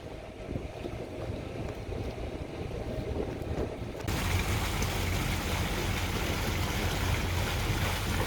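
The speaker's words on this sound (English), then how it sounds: "Windy, very windy here." Strong wind buffets a boat exiting a lock on the Mississippi River, a broad roaring rush that grows noticeably louder and denser halfway through, with water washing underneath and no voices.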